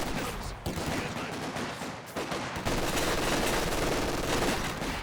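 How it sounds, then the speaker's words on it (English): MG42 machine gun fire in Company of Heroes 2 during a 2v2 match: dense, loud, continuous bursts of gunfire that overlap and barely let up, with several harder volleys and a brief dip near the two-second mark. "MG42 setting up"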